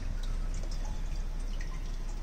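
Water flowing steadily through a laboratory channel fitted with an ogee weir, a continuous soft rushing wash with faint trickling and dripping on top, even in level from start to end.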